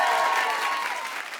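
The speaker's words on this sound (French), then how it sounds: "Est-ce qu'on peut applaudir très très très fort Camille Lelouch, s'il vous plaît, les amis?" Loud, sustained applause from a live audience at a Paris stage show, a dense wash of clapping that stays steady and close for the whole stretch, tapering only slightly at the end.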